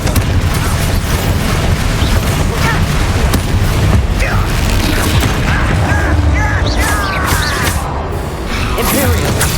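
Confringo spell blasts in Hogwarts Legacy: continuous loud explosive booms and crackling impacts layered densely with battle noise throughout, with no pause in the din.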